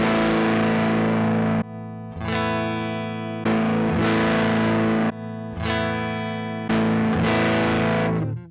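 Electric guitar played through a Mooer Two Stones amp-simulator pedal in a distorted drive mode, ringing out in loud sustained chords that cut off and restrike about four times, with no talking.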